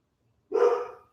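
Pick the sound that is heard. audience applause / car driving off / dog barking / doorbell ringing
dog barking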